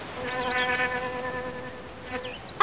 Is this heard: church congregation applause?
no